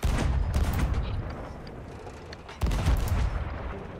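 Ship cannon and blunderbomb fire in a naval video game against ghost ships: a loud booming blast at the start and another midway, each rolling into a dense, rumbling roar of continuous battle noise.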